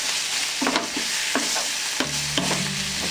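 Amla chutney sizzles in oil in a pan while being stirred, with a continuous hiss broken by several distinct spoon scrapes and knocks against the pan, close up and without voices.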